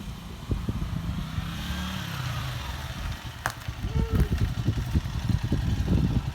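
A Honda CG125 motorcycle engine runs close by with a low, throbbing putter that picks up into quicker, rougher pulses toward the end, and faint voices sit under it.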